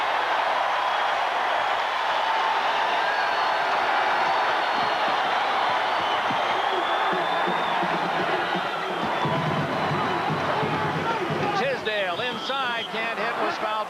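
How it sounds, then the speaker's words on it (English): A college basketball arena crowd roars to its feet in a 1984 Oklahoma versus Memphis State game, a loud sustained wash of cheering with a commentator talking over it. "And that brings the crowd to its feet."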